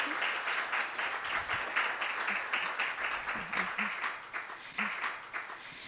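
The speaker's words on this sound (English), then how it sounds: "join me in an applause for the BWM team" Applause from an audience honoring the BWM team and collaborators at the opening of a blue carbon conference, a steady patter of many hands held at moderate level across the whole stretch with faint low voices underneath.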